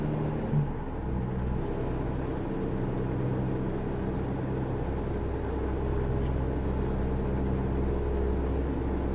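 A day cab truck engine held at full throttle in American Truck Simulator, a steady loud low drone that runs unbroken throughout with no pauses.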